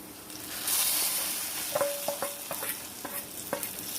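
A tempering for tamarind leaf dal rasam fries in hot oil, with a close, steady sizzle overlaid by repeated sharp stirring clicks and scrapes of a utensil.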